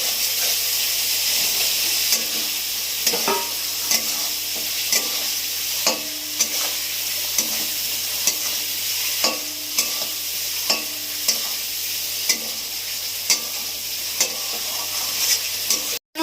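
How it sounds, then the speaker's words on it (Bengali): Prawns sauté in a hot pan for a prawn malai curry, giving a constant loud sizzle with regular spatula scrapes and taps every second or so, close and without talk. "মাছগুলো দিয়ে কষাবো আবার।"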